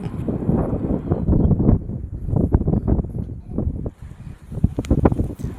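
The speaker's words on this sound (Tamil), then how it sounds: "காற்று நல்லா விசு விசு நல்லா சூப்பராக அடிக்கும்" Gusty wind buffeting the microphone at a hilltop viewpoint in Salem, rising and falling in loud, rough bursts across the whole stretch, with no speech.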